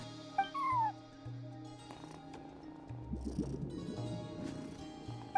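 A cat meows a few times inside the Genshin Impact video game, short tonal calls over a layer of soft game music and ambient effects, with no talking.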